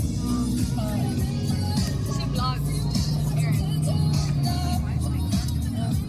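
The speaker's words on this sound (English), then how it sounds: "this is us driving to the party" A car drives to a party in Miami, its steady road rumble and engine hum filling the cabin throughout at close range. Occasional voices and music-like tones sit over the noise.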